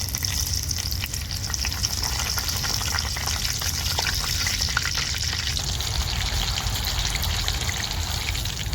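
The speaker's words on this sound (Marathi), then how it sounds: "आता या झारातनं मिरच्या घालून घेते मी आणि तळून घेणार आहे" Green chilies deep-frying in hot oil for Mumbai vada pav, a steady, close, loud bubbling sizzle that runs without a break.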